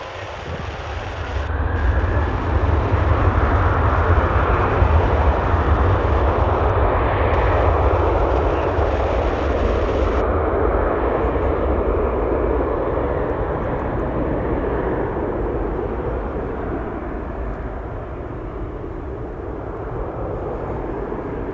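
A Ryanair airliner takes off at Bristol Airport, its jet engines building to a loud, sustained roar that stays steady and then slowly eases as the plane pulls away.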